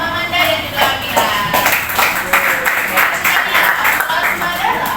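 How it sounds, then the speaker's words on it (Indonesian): A classroom audience claps together for several seconds, a dense, steady burst of applause close by with a few voices mixed in. "Tepuk tangan untuk Amanda dan juga Amira."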